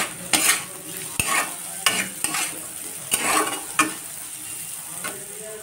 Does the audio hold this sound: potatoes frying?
yes